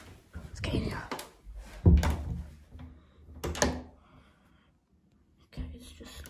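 A locked door being tried, with heavy thunks and rattling as the handle is pulled and pushed, the dull knocks spread unevenly among quiet breathy voices and whispers.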